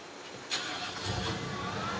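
A car engine in the sandbox game Teardown runs steadily at a medium pitch, a sharp start-up burst followed by continuous moderate rumble with no talking.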